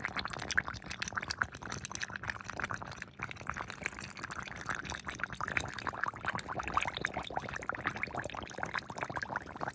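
Apple cider vinegar is poured over fire cider ingredients in a jar, a steady soft gurgling stream that continues faintly and evenly for several seconds with no talk.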